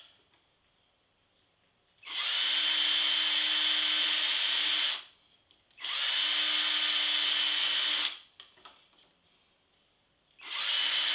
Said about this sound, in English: we drill right where we even put the dots